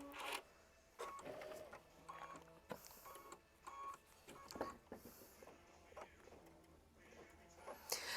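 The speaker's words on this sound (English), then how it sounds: "I am sewing on the Brother Avenir" A Brother Avenir sewing machine stitches quilting on a flower bouquet block, running in bursts of mechanical whirring and rattling that stop and start, fairly close and moderately loud, with no one talking.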